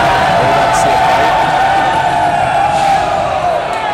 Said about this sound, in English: The crowd is going crazy over this